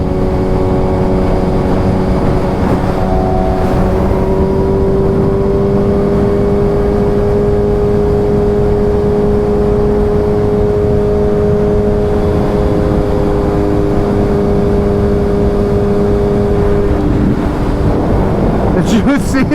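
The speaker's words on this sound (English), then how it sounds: "I'm absolutely in love with the with how the exhaust sounds on this bike" A Suzuki Hayabusa sport bike's exhaust drones steadily at speed, with the engine note holding and then shifting near the end, under rushing wind and a rider's voice.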